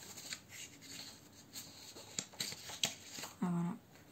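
Quiet snipping and rustling up close, as scissors cut paper in short irregular strokes to cut out a saucepan shape, with a brief low tone near the end.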